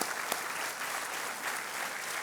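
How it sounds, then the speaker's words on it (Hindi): Studio audience on the Indian quiz show Kaun Banega Crorepati claps steadily, a brief dense burst of applause heard alone at moderate level. "एक बार फिर राहुल के लिए बहुत बहुत तालियों के साथ इनका अभिनंदन"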